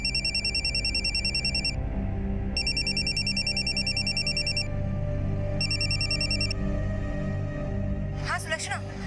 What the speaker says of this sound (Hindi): मैंने पीसीओ से उसके मोबाइल पर कॉल किया।